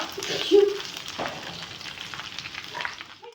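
Okra, or ladies finger, frying in a pan for a dry curry with onions, giving a steady close sizzle with light stirring scrapes throughout.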